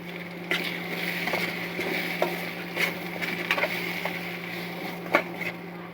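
Eggs frying in a pan over low heat, a steady soft sizzle running throughout with occasional small crackles and light utensil taps near the mic, no speech.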